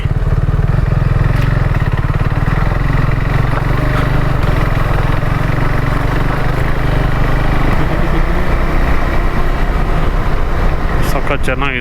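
A KTM 390 Adventure motorcycle idles steadily and close by on a roadside stop in Uttara Kannada, its low engine rumble continuous throughout with other faint traffic or engine noise mixed in.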